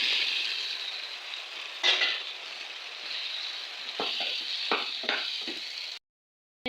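Spiced masala frying in a pan with beans, eggplant and potato for a tengra fish curry, a steady close sizzle with a few sharp stirring scrapes and clinks, then a short silence at the end.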